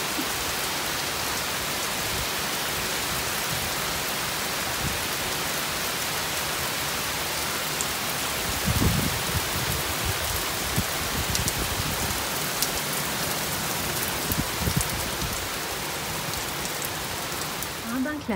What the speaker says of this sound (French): Pendant que la pluie tombe,